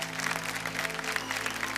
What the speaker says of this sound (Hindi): एक बार जोरदार तालियां इनके लिए बजा दीजिए